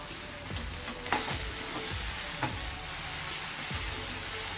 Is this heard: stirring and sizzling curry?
yes